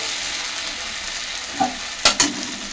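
Chicken meat sautés in oil in a pot with a soft continuous sizzle, and a few scraping stirs and spoon knocks come near the end.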